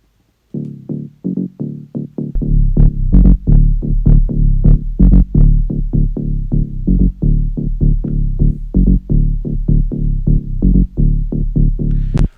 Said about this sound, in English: anything below, like, let's say 200 hertz, for example. Let's solo that. And let's pump it.